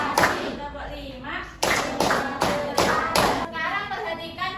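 Schoolchildren in a classroom in Malang clap a rhythmic concentration routine, sharp clustered claps in several bursts with a teacher's voice and children's voices speaking between them.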